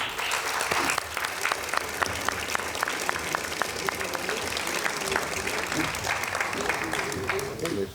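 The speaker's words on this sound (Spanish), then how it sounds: "Así que, por favor, recibamos con un fuerte aplauso a María Luisa Vázquez." Sustained applause from an audience at a book presentation, dense clapping that stays steady and loud for the whole stretch, with no voices breaking through.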